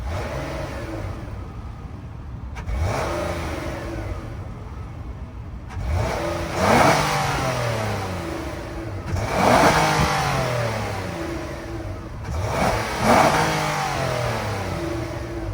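A 3.5 liter VQ V6 car engine idles, then revs up repeatedly, three or four rising roars that climb and fall back to idle, close and loud.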